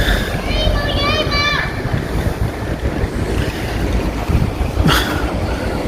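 Wind blows across the microphone outdoors at Gothenburg airport in Sweden, a steady, loud roar with gusty buffeting. Brief faint tonal sounds appear early on, and no speech stands out.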